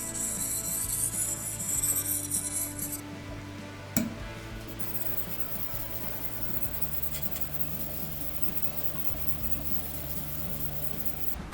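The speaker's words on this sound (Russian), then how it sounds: "Переворачиваем нож, чтобы работать по заусенцу, и приступаем к заточке." An Opinel knife blade is sharpened on a whetstone with a sustained dry rasping rub of steel on stone, quiet and close, interrupted by a brief sharp knock partway through before the steady strokes resume.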